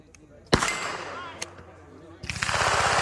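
A sharp close pistol shot from a 2011 pistol fed by double-stack Glock magazines, a second fainter report, then a rapid burst of shots at the end, with a voice talking in between.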